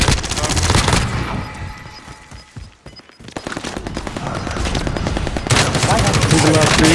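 Automatic gunfire in the Warzone battle royale video game, heard as loud, rapid bursts of shots close by that start, pause briefly and then resume, with game sounds mixed in.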